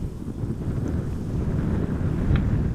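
Strong wind at Amsterdam Schiphol Airport buffets the microphone in a continuous low rumbling roar, loud and close throughout.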